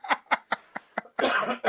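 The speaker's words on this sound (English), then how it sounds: "So this gets a cough from me" A person coughs close up, five sharp single coughs in an even rhythm, followed by a longer rough burst and one more cough.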